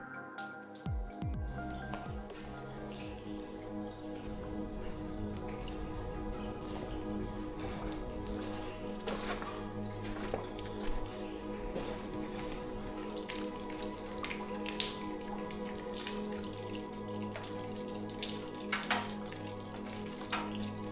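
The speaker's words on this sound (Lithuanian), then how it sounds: "Dėl to sugrįžome, kuomet lyja." Rain falling inside a derelict, overgrown culture house in Lithuania, a faint steady patter of drops and drips on hard surfaces with occasional louder splashes, no talking.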